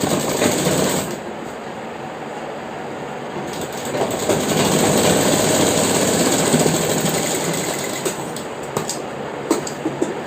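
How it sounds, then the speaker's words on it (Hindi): A sewing machine stitches the back pocket of a pair of pants, running as a steady, close, continuous mechanical whir with light rhythmic clatter for the whole stretch and no talk over it. "ये जो कपड़ा है इसको हम इस तरह से पलटेंगे और सिलाई लगाएंगे।"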